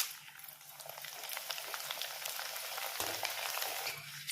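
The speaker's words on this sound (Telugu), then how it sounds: "అలాగే కార్న్ ఫ్లెక్స్ ఇవి కూడా వేయించుకోవాలి" Corn flakes fry in hot oil with a steady crackling sizzle that grows louder partway through, and a few light scrapes of a stirring spoon.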